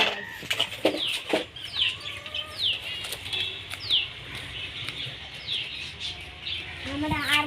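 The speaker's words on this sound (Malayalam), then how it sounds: "നമ്മുടെ 6 കോഴി ഇവിടെ കിടപ്പുണ്ട്" Six backyard chickens, four black, one orange and one white, cluck and chirp in short scattered calls, with rustling and wing flaps close by and a voice talking over them.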